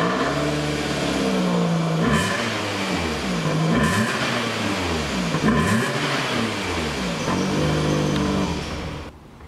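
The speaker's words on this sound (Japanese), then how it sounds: "純正マフラーにマフラーカッターが装着されています。" A Toyota Camry G LTD with its stock muffler fitted with a muffler cutter, revved repeatedly; the engine climbs and falls in several rising sweeps, loud and close, with no talk.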